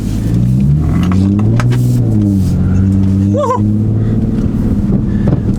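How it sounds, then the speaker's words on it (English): A supercharged Audi S4 accelerating on snow, its engine droning steadily and loud with a rising pitch as it pulls, heard up close from inside with continuous road and wind noise. "So with this car and having a supercharger, you're always going to have that instant power."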